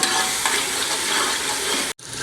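Tomatoes and spices sautéing in a pan, giving a loud, continuous hiss and crackle of frying oil that cuts off briefly near the end, then resumes.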